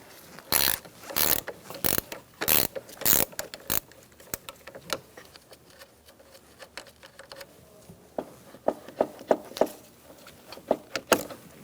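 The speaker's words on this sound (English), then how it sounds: "Remove your negative battery terminal using an 8mm wrench." An 8mm wrench loosens the negative battery terminal on a 2007-2017 Ford Expedition, making bursts of quick ratcheting clicks, then a quieter pause and a faster run of close clicks with no talk.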